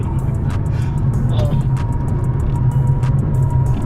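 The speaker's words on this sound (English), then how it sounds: "This road's a bit bumpy. You can kind of hear everything creaking and wobbling in here, right?" Steady low road rumble and drone inside a 2006 Mercedes-Benz CLS55 AMG on BC Racing coilovers driving a bumpy road, with faint repeated knocks and creaks from the cabin and suspension over the constant noise.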